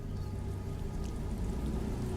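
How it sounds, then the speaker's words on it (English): Steady rain falling in a video game, a constant dense hiss of drops with no voices, moderately loud throughout. "No, it's raining."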